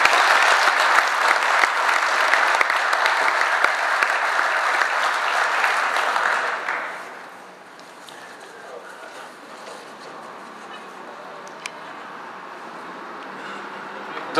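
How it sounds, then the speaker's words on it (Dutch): Sustained, dense applause from a crowd greets two men at the opening of a new building, loud for several seconds before fading out into a quiet room murmur. "nogmaals een geweldig applaus voor deze twee heren"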